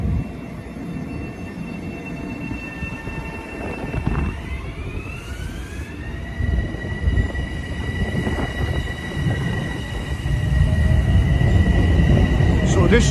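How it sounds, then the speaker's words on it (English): A Metro-North commuter train departs Harlem-125th Street station, its steady rumble building as the cars roll out, with long, high wheel squeals sliding in pitch along the rails. "Now let's watch the train go"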